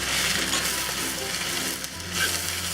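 Dandelion greens hitting a hot wok with garlic give a loud, steady hissing sizzle that holds at a constant level, close up and with no talk.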